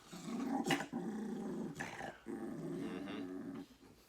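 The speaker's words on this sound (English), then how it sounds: "See if I can get him to growl." A dog growls in long, low rumbling stretches broken by brief pauses, close by and fairly quiet, with a short sharper bark-like burst partway through.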